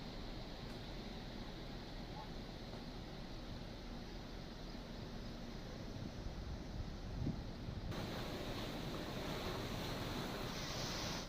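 The Kharkai river in flood in Jharkhand, running above the danger mark after days of rain: a steady, broad rushing roar of water, loud and constant, with wind buffeting the microphone and no voices.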